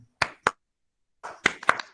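A handful of sharp handclaps from a leadership training gathering: two quick claps, a short silence, then a brief ragged burst of several claps close by.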